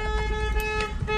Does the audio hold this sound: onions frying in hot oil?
no